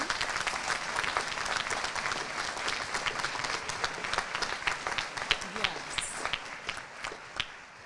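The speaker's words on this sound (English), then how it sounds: "Can we start with a big round of applause for you?" An audience at a commencement ceremony applauds the graduates, sustained dense clapping from a large crowd that carries on for several seconds, with some talk mixed in.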